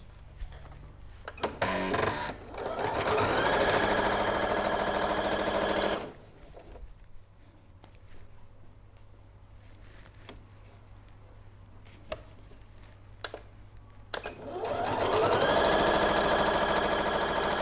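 A sewing machine stitches leather pants in two sustained, loud runs, with a quieter stretch of faint clicks and handling noise between them.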